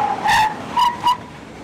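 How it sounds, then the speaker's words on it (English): A 2012 Subaru WRX STI brakes hard from 60 mph, its tires giving a few short, loud squealing skids in quick bursts close by, with no talking. "And now we do our 60 to 0 braking test."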